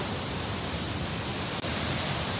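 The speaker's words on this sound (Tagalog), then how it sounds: "Lakas ang agos. Ganda ng falls." Shiraito waterfall in Nishihara Village, Kumamoto, rushing hard with strong flow, a steady, dense roar of water filling the whole stretch without break, loud and close.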